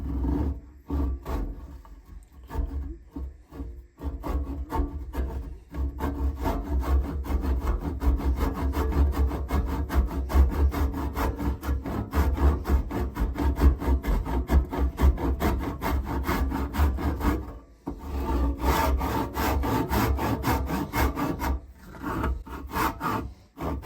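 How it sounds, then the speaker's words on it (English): A 6 points per inch hand resaw saw rips through a walnut board in steady, rhythmic rasping strokes, close and loud, with a brief pause before the sawing resumes. "So I have my 6 points per inch resaw saw, and I'm going to work my way around it."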